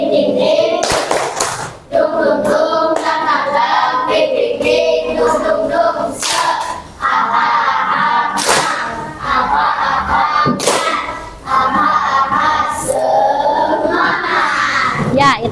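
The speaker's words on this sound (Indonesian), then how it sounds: "biar semangat kita tepuk semangat dulu. Semangat gendang." A classroom of students performs a rhythmic drum-style spirit clap, loud, close hand claps and thumps in a quick patterned beat that runs for about fifteen seconds with shouted chants over it and brief pauses between phrases.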